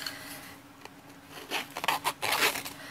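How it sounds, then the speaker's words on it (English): Paper edge scraped repeatedly with a distressing tool, a die-cut card edge being roughed up in quick rasping bursts that grow denser toward the end, close and fairly quiet. "Here I am trying to cut off some die cut edge."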